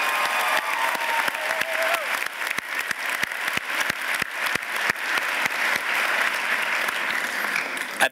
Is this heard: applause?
yes